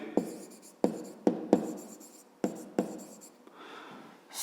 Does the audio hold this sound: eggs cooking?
no